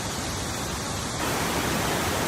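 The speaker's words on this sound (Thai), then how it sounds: "ชั้นที่สองครับ น้ำตกสะพานครับ" Second tier of Sapan waterfall in Nan, Thailand, rushing as a steady, dense broadband roar close by, constant throughout with a slight swell in loudness midway and no voices.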